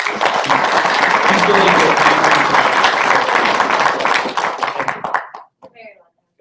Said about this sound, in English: So if you guys could give a round of applause.